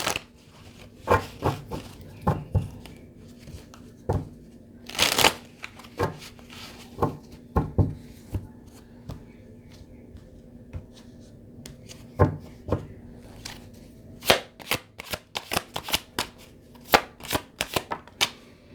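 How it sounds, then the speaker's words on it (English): Cards from a healing oracle deck are shuffled and handled close by, giving irregular bursts of crisp slapping and riffling clicks spread over nearly twenty seconds, with no talking. "I'll take 3 cards from the healing deck."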